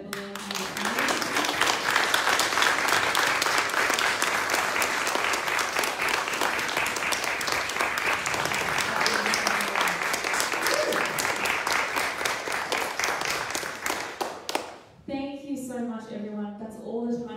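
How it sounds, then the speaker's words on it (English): A large audience applauds, sustained and loud for about fourteen seconds, with cheers faintly mixed in, then the clapping fades and a person begins speaking. "Can we just give a round of applause for Evelyn?"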